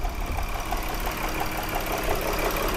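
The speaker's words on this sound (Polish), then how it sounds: "Samochód nierówno pracuje i słychać łańcuch." A Skoda 3.6 V6 engine with a timing fault idles unevenly, a steady low running sound with faint chain rattle and ticking, fairly quiet and without voices.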